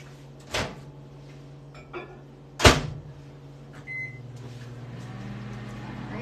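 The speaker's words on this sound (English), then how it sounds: "We're going to put these in the microwave and heat them up." A microwave oven heating green beans: a door thuds shut, a few clunks and a short beep follow, then the oven's steady low hum runs continuously, nearby and without talk.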